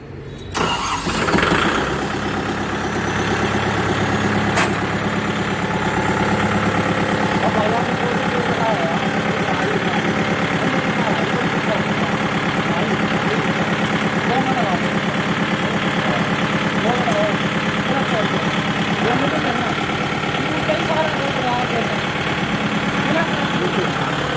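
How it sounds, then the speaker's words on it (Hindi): A Kubota tractor engine starts up and then idles steadily for a long stretch, a continuous mid-pitched diesel chug, with faint voices now and then. "ट्रैक्टर को न्यूट्रल कर लीजिए और ट्रैक्टर को स्टार्ट कीजिए।"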